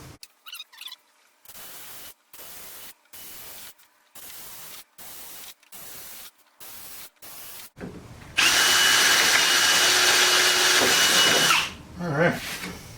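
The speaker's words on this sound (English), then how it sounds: "So let's get to drilling." Power drill boring hinge holes through a board for mounting a Ryobi storage cabinet, a steady loud whir lasting about three seconds after a run of short, evenly spaced bursts.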